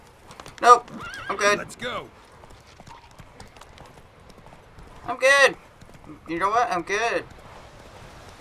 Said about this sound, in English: I should enter this horse into a horse race. It's pretty good. Pretty fast.